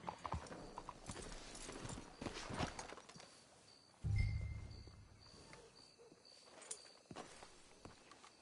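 Rhythmic clip-clop of horse hooves trotting in Red Dead Redemption 2, with a horse snorting or whinnying briefly partway through, against quiet crickets.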